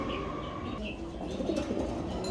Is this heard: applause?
no